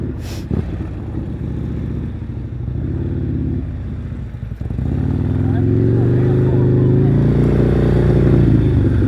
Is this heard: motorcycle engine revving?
yes